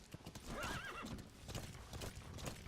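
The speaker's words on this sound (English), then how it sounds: "And I'm still riding this horse." A ridden horse in Metal Gear Solid V: The Phantom Pain gives a clear whinnying neigh over rapid clip-clop hoofbeats, the galloping thuds continuing briskly after the call.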